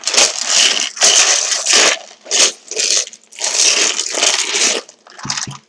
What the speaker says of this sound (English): I'm going to shuffle this box